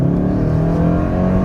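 A 2027 Kia Telluride accelerates from near a stop, its engine note climbing steadily through a couple of gears as a loud, continuous interior drone with no talking over it.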